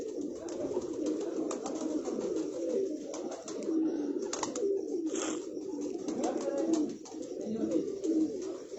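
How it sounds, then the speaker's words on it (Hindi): Cheena pigeons of large build coo repeatedly at a loft in Rawalpindi, soft throaty calls rising over a constant low murmur of birds, fairly faint, with occasional sharp clicks and flutters. "चीना कबूतर है जी माशाल्लाह, और बड़े कैंडे का कबूतर है।"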